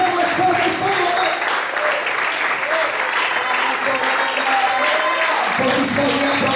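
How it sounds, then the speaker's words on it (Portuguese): A church congregation applauds, loud dense clapping from many people that continues throughout, with voices mixed into the crowd sound. "Todos podem aplaudir"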